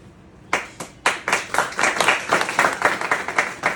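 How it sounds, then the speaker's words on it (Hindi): Seminar audience at a fish pond site clapping, starting with a few sharp individual claps that quickly build into a close, rhythmic burst of group applause. "मैंने नाम लिया, आपने ताली बजा दी।"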